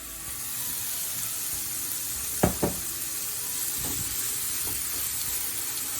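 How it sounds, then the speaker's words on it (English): Vegetables and paneer sizzle steadily in hot oil in a pan, a constant close hiss broken by a couple of sharp clanks of stirring. "We'll just roast the vegetable and paneer until it's golden brown."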